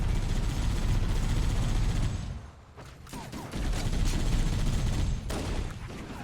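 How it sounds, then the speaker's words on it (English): Marines fire assault rifles in Halo: Combat Evolved, a continuous rattle of automatic gunfire that briefly dips and then resumes at full loudness, with no talking. "It's kind of interesting how low the Marines' rate of fire is with the assault rifle."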